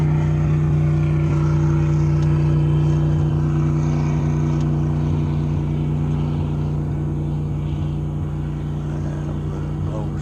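An inboard engine drives a sailboat under motor power, producing a steady, loud, low droning hum with a constant tone throughout, while wind and water noise wash faintly over it.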